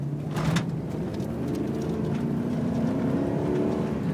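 A 2004 Dodge Ram pickup's 5.7L Hemi engine rumbles and revs steadily at moderate distance, a continuous throaty drone with no voices.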